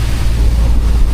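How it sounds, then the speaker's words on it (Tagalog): Rough open sea surges and crashes around a boat at sea in bad weather, with a loud, continuous rush of waves and heavy wind buffeting the microphone. "Sisid na naman si Julius Ivan sa maalong karagatan."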